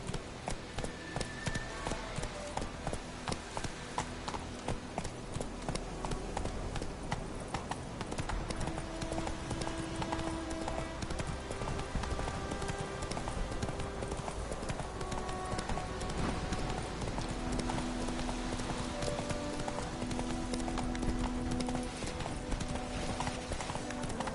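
Horse hooves clip-clopping steadily in the video game The Witcher 3, a continuous trotting rhythm with a faint whinny, set against game music and ambient sounds and heard loudly throughout.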